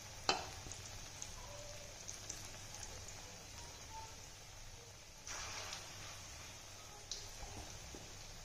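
Malai kofta balls deep-frying in hot oil, a steady close crackling sizzle with a few sharper pops and splashes.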